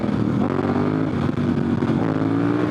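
A dual sport motorcycle on Heidenau K60 Scout tires accelerates as the throttle opens, a loud, close engine drone with steady rising harmonics throughout.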